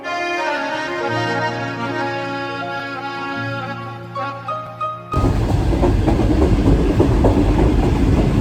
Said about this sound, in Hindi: इस प्लेटफॉर्म पे कुछ ही देर में ग्रीन लाइन ट्रेन पहुँच जाएगी